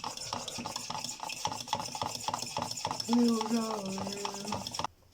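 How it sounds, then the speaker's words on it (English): A spoon stirs two scoops of tangerine-orange Crack Reloaded pre-workout powder in a drink, clinking steadily and fairly close for about five seconds, with a brief pitched squeak partway through before it stops abruptly. "Stir it up."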